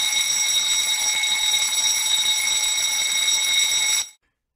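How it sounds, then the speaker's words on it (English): Automatic fire alarm of a ship engine room water mist system sounding as a steady, loud electronic tone with strong harmonics, continuous for about four seconds before cutting off abruptly into silence. "When the first fire detector is activated, an alarm is initiated."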